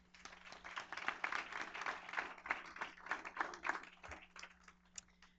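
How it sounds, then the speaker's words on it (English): A room of people claps steadily for several seconds, a faint, distant patter of many hands over a low hum. "Let's give them a round of applause real quick."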